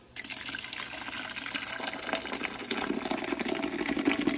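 Water pours steadily into a cooking pot for goat birria, a continuous splashing gush that fills the space at close range with no voices over it.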